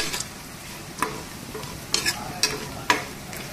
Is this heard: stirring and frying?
yes